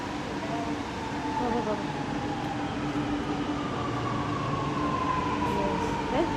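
A Chennai metro train rumbles steadily as it arrives at the station, its broadband roar and faint electric whine continuous throughout, with some voices mixed in.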